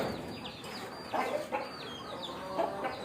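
Chickens kept at a temple cluck and squawk in short bursts, fairly close and alone with no voices, with a couple of louder calls standing out.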